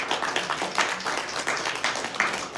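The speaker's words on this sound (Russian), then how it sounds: "Жиденькие аплодисменты." Sparse, thin applause from a small audience at a talk on the history of churches and clergy, a handful of separate claps scattered over a couple of seconds.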